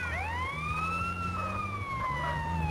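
Ambulance siren wailing in the GTA San Andreas Definitive Edition game, a rising and falling electronic tone over a low engine rumble, steady and prominent with no talk.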